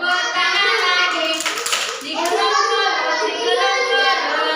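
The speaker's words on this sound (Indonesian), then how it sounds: "Buka tutup, tepuk tangan lagi." Children clap their hands in rhythm during a classroom song game, repeated claps mixed with kids' singing voices, lively and close with a short pause midway.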